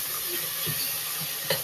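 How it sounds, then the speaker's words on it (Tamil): Chopped onions and tomatoes sauté in a hot pan for chicken gravy, a close, steady sizzle broken by a few soft scrapes and stirring knocks. "அடுத்தது வெங்காயம் தக்காளி போட்டு நல்லா வதக்கணும்."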